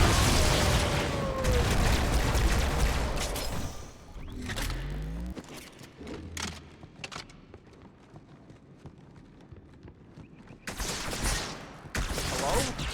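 Gunfire in the video game Halo 2: dense, loud bursts of shooting and booms at the start, a quieter stretch of scattered shots and movement, then another heavy burst of fire near the end, with someone talking at times.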